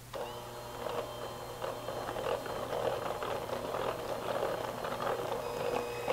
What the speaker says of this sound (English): Once we get everything incorporated, we'll turn off the mixer and then just fold it.